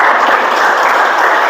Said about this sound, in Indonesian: beri tepuk tangan untuk Ajeng.